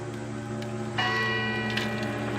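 Neighbouring clock chimes ringing out, a bright bell tone struck about a second in and sustaining with shimmering overtones over a steady low background hum.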